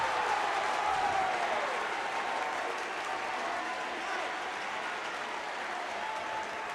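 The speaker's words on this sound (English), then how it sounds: "the Phoenixville crowd is up and applauding" A home crowd of Phoenixville fans at a high school basketball championship game against Spring-Ford applauds and cheers in a steady, loud roar that holds for several seconds, with a commentator's voice faintly under the noise.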